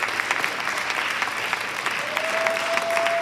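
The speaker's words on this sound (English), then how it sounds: "I need you guys to give our seniors a round of applause." A school audience applauds graduating seniors at a JAG department event, with sustained, even crowd clapping throughout and a faint tonal whistle or squeal rising in the background partway through.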